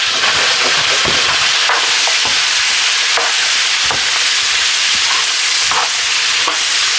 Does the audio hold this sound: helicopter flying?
no